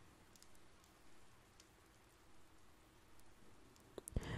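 Light rain in the video game Persona 4 Golden, a steady soft patter running throughout at low level, with a few sharper clicks near the end.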